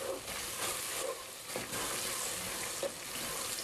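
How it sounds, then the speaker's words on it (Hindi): Chopped green chillies with garlic and ginger frying in oil for masala chicken biryani, a continuous moderate sizzle broken by occasional spoon stirs and light clinks, with no voices. "थोड़ा सा फ्राई करेंगे"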